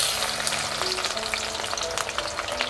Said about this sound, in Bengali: এবার এর মধ্যে আমি কুচনো পেঁয়াজ দিয়ে দেব।